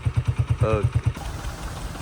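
A motorcycle engine idles with a rapid, regular low thumping that fades out midway, while a person speaks briefly over it.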